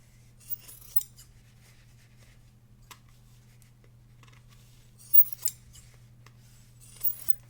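Scissors snip and trim black fabric pieces for a quilted star ornament, quiet close cuts and rustles in irregular bursts over a low steady hum.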